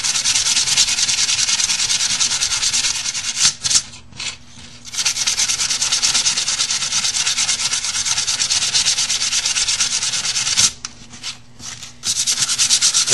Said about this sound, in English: Now I like to sand it in all four directions. Up, down, left, to right, both ways diagonally.